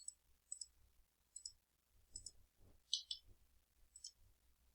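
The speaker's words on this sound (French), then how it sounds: "Je clique." A computer mouse clicks while drawing in Revit software, a few quiet sharp clicks spaced irregularly, with soft low speech faintly in the background.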